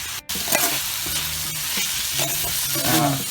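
Onions sizzle in a pan of already softened leeks for a dry fish and potato dish, stirred with a utensil that scrapes and clatters in short bursts over a steady close frying hiss.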